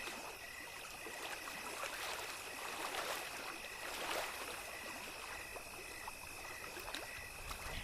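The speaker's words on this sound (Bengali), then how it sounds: "মেয়েটা বৈঠা বাইতে শুরু করে" A cartoon girl rows a boat with an oar on a river. Steady soft lapping and trickling water runs throughout with faint splashes, and no one speaks.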